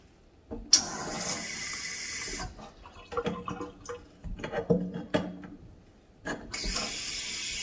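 Water running from a bathroom faucet fitted with a newly installed aerator, a steady hiss that starts and stops, with clinks and handling noises in between and no talking.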